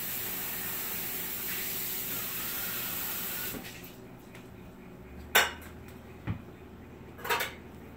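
Canned tuna being stirred in a bowl, with a steady hissy scrape for several seconds that gives way to a few sharp clinks of a utensil against the dish.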